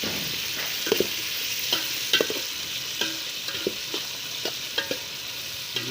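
Onions sauté in a pan for a chicken adobo, a constant sizzle broken by repeated sharp spatula taps and scrapes roughly every half second to second; no one speaks.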